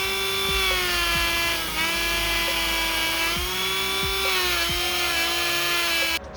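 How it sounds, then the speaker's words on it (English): A Dremel rotary tool whines steadily at high pitch while polishing a turbocharger housing, close and loud, its tone wavering slightly as it presses against the metal, with small knocks and scrapes of handling underneath. "Hit all this area with the Dremel."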